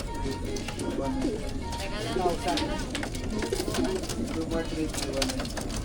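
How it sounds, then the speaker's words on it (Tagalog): Racing pigeons coo in soft, repeated throaty calls among a flock in baskets before a training toss in San Leonardo, Nueva Ecija, with people talking nearby and steady background noise throughout. "medyo maraming kalapati natin."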